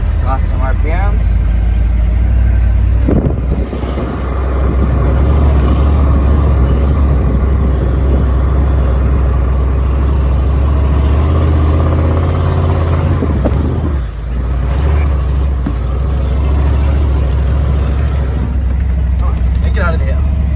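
A diesel Ford Highboy truck pulling in second gear up a snowy hill, its engine a constant heavy low rumble filling the cab, with a voice talking over it and the note dipping briefly twice.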